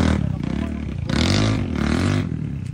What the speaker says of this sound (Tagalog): Ayan, naayos yung motor.